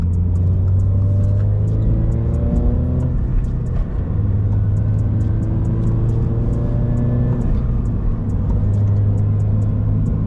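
Interior road noise inside a 2023 Subaru BRZ while turning on a bumpy road: a steady, loud low engine and tire drone fills the cabin, with faint intermittent rattles and clicks from inside the car and no talking.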